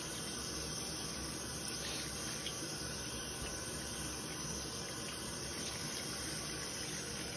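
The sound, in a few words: running tap water rinsing soap off hands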